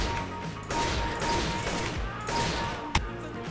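Rapid gunfire from a CS:GO aim-training session shooting at small targets, a dense run of shots with a sharp louder crack near the end, with no talking.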